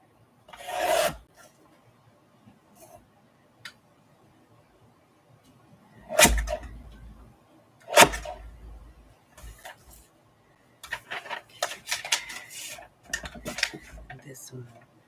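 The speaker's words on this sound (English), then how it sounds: "I'm going to trim that because there's a whole lot." Paper being trimmed for a handmade detective-themed journal, with a few crisp, close cuts and rasping slides of paper separated by quiet stretches, followed by softer rustling and handling.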